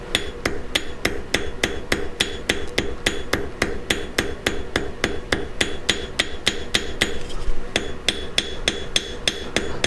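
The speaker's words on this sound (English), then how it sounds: "Use the cross peen, make the wire wider, flip it over, make sure it gets flat down against the anvil." Cross peen hammer strikes silver wire on an anvil in a steady, rapid series of sharp metallic blows, loud and close, with no talk and a brief pause near the end before hammering resumes.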